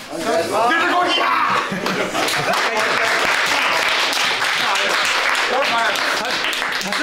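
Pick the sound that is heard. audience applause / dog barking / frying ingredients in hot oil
audience applause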